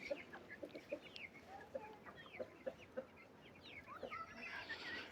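Black chicks and hens in a coop give soft, repeated clucks and peeping calls, a busy, close flock murmuring at fairly low volume, with no talking.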